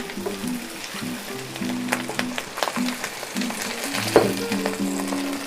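Beef and bell peppers stir-frying in a pan, a steady loud sizzle with scraping stirs and clinks of a utensil against the pan, continuous and close with no talk.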